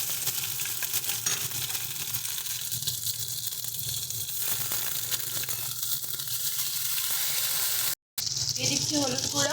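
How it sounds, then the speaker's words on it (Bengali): Cumin seeds, dried red chili and ground ginger-green chili paste sizzle steadily in hot oil for a shrimp and water lily stem dish, a continuous hiss with a cook talking over it. "এবারে ফোড়ন দেবো হচ্ছে জিরে, শুকনো লঙ্কা, আর সাথে দিয়ে দেবো আমরা বাটা মশলা"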